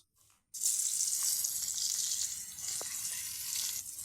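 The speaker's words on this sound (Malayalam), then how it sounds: "അയ്യോ, ഗൈസ്, നമ്മുടെ മീനെ അങ്ങോട്ട് ഇടുവാണ്." Fish dropped into a hot pan of oil sets off a sudden loud sizzle after a brief quiet moment, and the frying then hisses on steadily with small pops and crackles.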